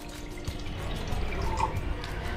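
Water pours and drips into a cooking pan in a South Indian home kitchen, a steady low liquid trickle at moderate level with no talking.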